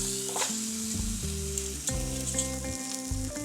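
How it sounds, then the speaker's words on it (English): Steak sears in a hot pan with a dense, loud, continuous sizzle close by, while a steady tonal hum runs underneath and no one speaks. "We're gonna add our last steak in."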